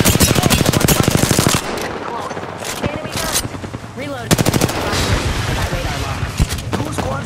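Rapid automatic gunfire bursts from the video game Apex Legends, loud and close, with repeated fusillades and pauses, under game voice callouts.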